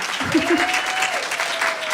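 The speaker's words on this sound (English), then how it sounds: "big round of applause for her" Live show audience applauding the producer up in the booth, a dense wash of clapping heard close, with a voice briefly speaking over the start.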